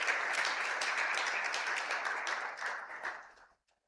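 A large audience at a media and advertising industry event breaks into loud, dense applause that holds steady, then tapers off and stops abruptly near the end.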